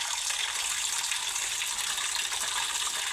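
A tap runs steadily, a bright, hissing stream of water flowing without a break, fairly close and alone.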